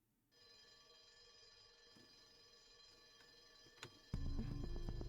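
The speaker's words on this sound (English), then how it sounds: "The stopped alarm starts ringing once again." Alarm ringing in the Ghostpia video game, a steady electronic ring holding throughout, with a few ticking clicks and a louder burst of sound near the end.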